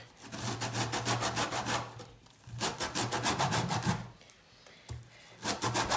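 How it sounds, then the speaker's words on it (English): A washed orange zested through plastic wrap for an orange cornmeal cake, giving close, rhythmic rasping scrapes in quick bursts with brief pauses between strokes. "I'm gonna zest all the zest off of it."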